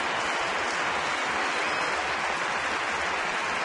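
A roaring sellout baseball crowd at a Tigers–Twins game cheers on the pitcher in the top of the ninth inning, a thick, continuous wall of stadium noise with no break.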